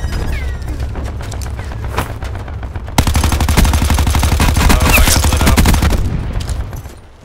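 Video game gunfire in a Call of Duty Black Ops 4 kill cam: loud, rapid automatic bursts, growing into dense, continuous fire in the middle before it trails off at the end.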